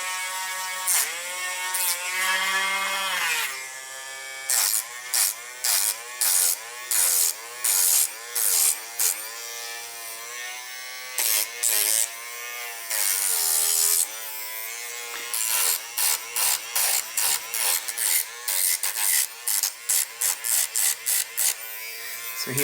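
An 80-grit drum sander on a mandrel grinds the edges of a leather knife sheath with a high electric whir, broken into many short bursts as the leather is pressed to it and pulled away, close and steady.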